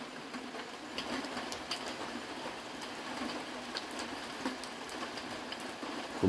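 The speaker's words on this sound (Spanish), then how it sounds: "Me gusta cuando llueve." Steady rain falls outdoors, a soft continuous patter with scattered sharper drops, moderately faint and even throughout.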